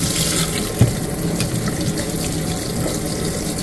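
Running tap water rinses a cleaned air fryer tray in a sink, a steady close splashing stream that holds throughout with one brief knock of the tray partway through.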